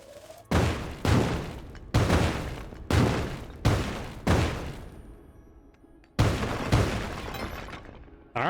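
Bombs blasting in Spelunky 2, seven heavy booms in an uneven series, each a sharp loud crack trailing off into rumble, close and without talk.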